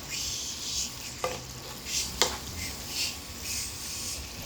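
Chicken thoran stirred in a pan, close rhythmic scraping of a spoon over a soft sizzle, with a few sharper knocks against the pan and no talking.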